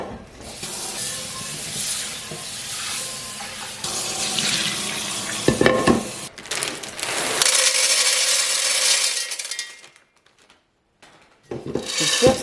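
Goma beans washed under a running kitchen tap: steady splashing water and rubbing of the beans in the sink, close, broken by a brief pause near the end before the water resumes.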